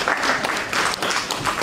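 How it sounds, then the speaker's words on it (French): An audience claps at a French-language youth eloquence circle event in Senegal, honouring two guests; dense, loud, steady clapping fills the short stretch alone. "Alors applaudissez-les s'il vous plaît."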